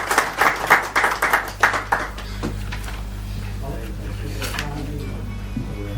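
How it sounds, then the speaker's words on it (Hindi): Audience applause at a dealers' association diary launch function, a burst of clapping in the first two seconds that fades into a low murmuring room. "मैं चाहूंगा कि एक बार तालियों से उनका स्वागत करें।"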